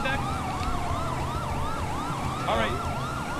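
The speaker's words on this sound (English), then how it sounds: "You hear those sirens in the back?" Police sirens wail continuously in a GTA roleplay video game, a steady rising-and-falling siren with a second siren briefly cutting in, heard over a low road rumble without talk.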